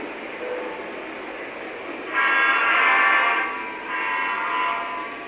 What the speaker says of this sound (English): we got 2 trains coming in hot